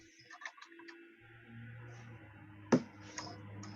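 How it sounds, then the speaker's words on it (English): Typing on a computer keyboard during a Python coding demonstration: sparse, quiet key clicks with one sharper tap, heard alone against a low steady hum. "And while she's typing,"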